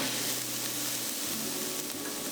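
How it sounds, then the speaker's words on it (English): Ginger and garlic sizzle steadily in a hot pan while being stirred for an Indian curry, a continuous close frying hiss with faint scraping and no talk. "Add in the ginger and garlic. Stir and cook this for about 1 to 2 minutes."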